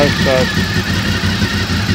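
Motorcycle engine running with a steady, loud rumble and slight rev fluctuations, with someone talking over it.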